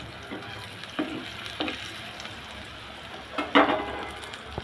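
Fish pieces fry in hot oil with a low, steady sizzle, and a few soft scrapes and clatters come as the pieces are turned one by one. The sound is close, at moderate volume, with no talking.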